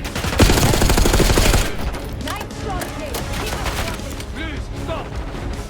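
Dense, loud gunfire from the video game Call of Duty Black Ops 6, a sustained burst of rapid shots filling the first seconds, then scattered shots and combat noise continuing under voices.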